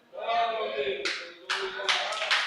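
A preacher speaks in Portuguese during a church service, then the congregation breaks into several bursts of hand clapping that come in quick waves alongside the speech.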